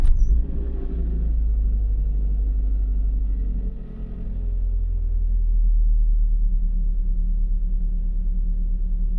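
A Mitsubishi Galant engine just started and settling into a steady idle: a brief start at the outset, then an even, low rumble that holds without pauses, close by.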